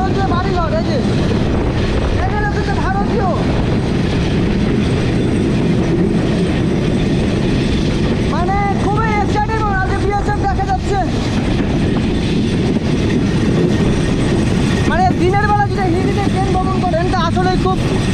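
A passenger train runs on rails during a journey near the Hili border crossing, with a steady loud rumble and repeated clattering bursts of wheel noise, while people talk nearby throughout.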